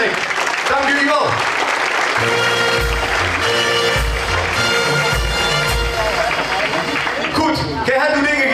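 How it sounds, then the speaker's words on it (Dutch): Audience applause for the organisers at a carnival club ball, sustained clapping from a crowd with music playing underneath and some voices mixed in. "Ik vraag nogmaals een applaus voor de organisatie, want het is ontzettend veel werk."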